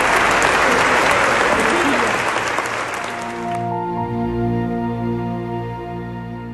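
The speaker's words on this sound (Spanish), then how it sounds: "la familia recibió una ovación al incorporarse como guardia de honor" Loud ovation from mourners at the wake of former Chilean president Piñera, dense applause filling the first three and a half seconds, then cutting off abruptly into a sustained musical drone.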